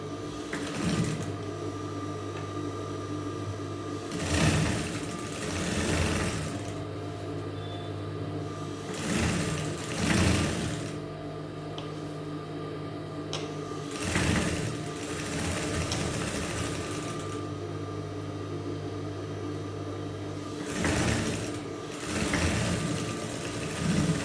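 A sewing machine stitches the neckline of a petticoat in several bursts of steady mechanical whirring, each lasting a few seconds, with brief pauses and handling noises between runs.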